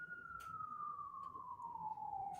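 An ambulance siren sounds as a single steady, slowly falling tone at a distance, faint under low background rumble.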